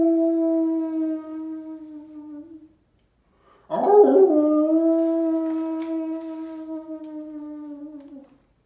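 Wolves in a wild, snowy, windswept place howl in long sustained tones, one howl fading out before a louder second one joins in with layered voices. The sound is clear and fairly close, with no talk.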